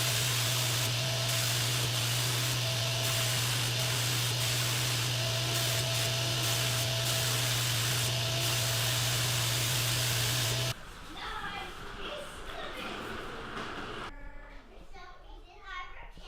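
A Fuji spray gun with a 1.3 mm tip sprays sanding sealer onto an ash wood twin bed. A steady, loud hiss runs over a constant droning hum for about ten seconds, then gives way to quieter room sound with children's voices.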